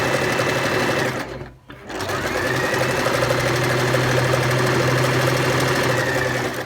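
A sewing machine stitches a seam on a storage tote, running in a loud close steady whirring hum, pausing briefly for a back stitch before running on again, no talking.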